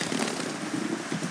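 Heavy rain pours down onto a wet device, a dense, close crackling patter with a continuous hiss and no pauses.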